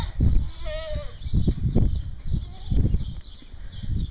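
Boer goat does and kids bleat near and loud, several wavering cries overlapping, with shuffling hooves and farmyard noise around them.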